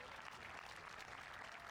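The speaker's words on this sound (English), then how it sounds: "Crowd give their appreciation for the bronze medalist, Tamaro Cassandro" Crowd applauding the bronze medalist at the ISSF shooting World Cup final in Lonato, a steady distant patter of clapping, faint and continuous with no breaks.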